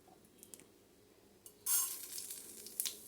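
Mustard seeds dropped into hot oil in a pan, a quiet stretch broken by a few faint taps before a sudden bright sizzle and crackle that carries on to the end.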